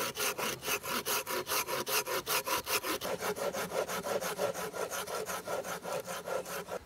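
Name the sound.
hand saw cutting score mark in wood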